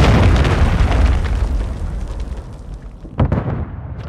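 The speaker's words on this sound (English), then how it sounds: "Friendly cruise missile deployed." Cruise missile explosion in Call of Duty Modern Warfare III, a loud deep boom that rumbles and slowly decays, followed by a sharper secondary blast near the end.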